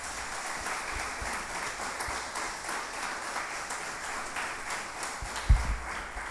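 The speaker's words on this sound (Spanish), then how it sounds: "Denle un aplauso al Señor amado" A church congregation applauds during a Spanish-language service, producing a steady wash of clapping at moderate distance with a brief thump near the end.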